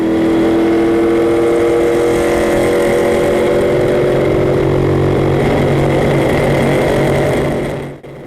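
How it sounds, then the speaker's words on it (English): A real NASCAR race car at 150 mph on Texas Motor Speedway, its engine revving out at maximum RPM in a loud, sustained, rising roar heard from inside the car, cutting off abruptly at the end. "you'll hear the motor, the RPM start revving out"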